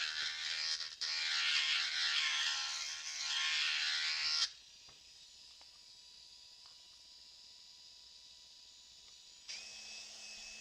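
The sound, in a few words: Dremel rotary tool working on model parts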